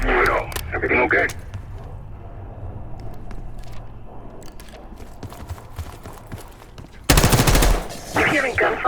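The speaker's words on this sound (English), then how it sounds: "You hearing gunfire? Yeah. Sounds like it's coming from one of the lower floors." Rapid automatic gunfire rattles in a Call of Duty Black Ops 6 level, bursts echoing from lower floors of a building, loud at the start and again near the end with a quieter stretch between.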